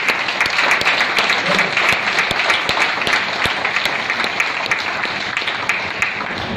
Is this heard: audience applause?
yes